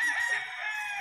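A Kelso golden boy cross gamefowl rooster crows once, loud and close, a short strained cock-a-doodle-doo with no talk.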